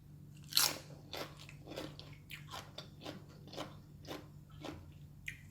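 Crunchy long beans dipped in Thai nam prik kapi shrimp paste sauce are chewed up close, giving a sharp first bite followed by a steady series of crisp crunches, with no talking.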